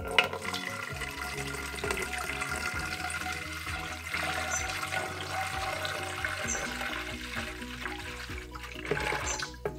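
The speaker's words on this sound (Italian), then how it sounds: "prendiamo la nostra pompa per irrogare, un litro d'acqua preciso, andiamo ad aggiungerlo" One litre of water is poured into a garden pump sprayer, a continuous gurgling, splashing flow that runs steadily and sounds faint and slightly distant.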